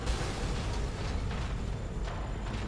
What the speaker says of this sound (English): A lot of bloody explosions going on.